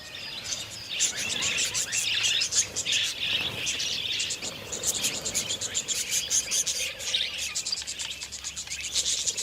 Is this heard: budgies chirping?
yes